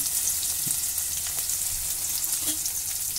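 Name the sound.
chopped onions frying in hot oil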